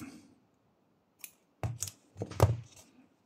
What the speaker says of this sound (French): Je vais venir couper mon fil.